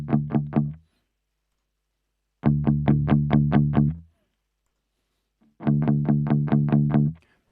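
An electric guitar with a high-pass EQ filter plays three bursts of fast, evenly repeated distorted notes. Each burst is separated by silence, and the sound is loud and close.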